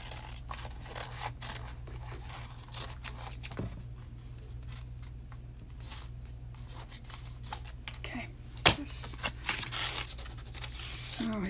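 Scissors snip through card paper in a run of small, close, crisp cuts, occasionally louder, while someone talks over the crafting.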